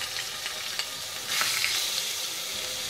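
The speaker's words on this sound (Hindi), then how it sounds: "लहसुन और अदरक का पेस्ट अच्छे से भुन गया है।" Garlic and ginger paste fries in hot oil with bay leaves, giving a steady, close, crackling sizzle that swells slightly midway, with no talking.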